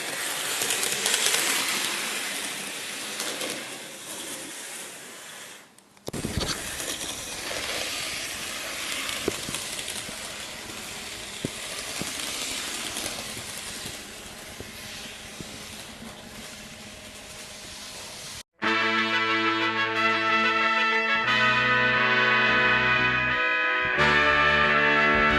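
Kato Düwag N scale model tram running on track, a steady hissing rumble of small wheels and motor lasting several seconds, then giving way to louder tonal sounds.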